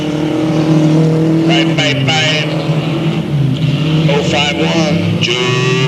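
Race cars roar around the oval at Delta Speedway, a steady loud engine drone with rising and falling tones as cars pass, under continuous announcer commentary.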